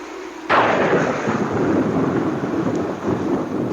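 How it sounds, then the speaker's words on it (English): A storm's thunder breaks with a sudden loud crack, then rolls on as a long, steady, rumbling roar mixed with rain-like hiss. "Looks like a storm, Lieutenant."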